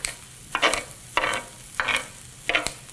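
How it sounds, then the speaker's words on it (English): Steak in a pan for Philly cheesesteak, sizzling under a low background hiss with four regular bursts of scraping and stirring, roughly every half second, close and fairly loud. "We're gonna cook our steak for a couple minutes undisturbed, and then we're gonna go get in there and toss it around."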